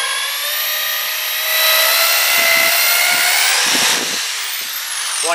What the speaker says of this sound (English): Okay, I have to ream this out just a little bit.